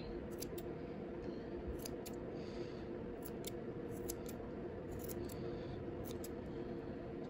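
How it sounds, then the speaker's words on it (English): Scissors snip around a yarn pom-pom for a crochet hat topper, giving a series of quick, crisp, close cuts in irregular bursts over a low steady background hiss, with no one speaking. "then you just take your scissors and just cut off those little parts that's higher than what you need them to be."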